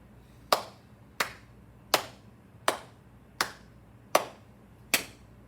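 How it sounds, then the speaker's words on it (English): Seven sharp hand claps in a steady, evenly spaced rhythm, crisp and close, each with a short decay in a quiet room and no talk over them. "Let's clap our rhythm, showing the highness and the lowness of the different notes."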